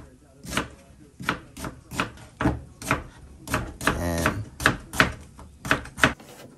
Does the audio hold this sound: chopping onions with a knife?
yes